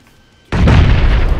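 A grenade blast in the battle royale game PUBG erupts suddenly after a quiet moment, a loud, broad boom that rolls on as a dense rumbling roar with no voices over it.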